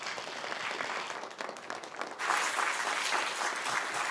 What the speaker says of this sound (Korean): 박수로 우리 교수님 맞겠습니다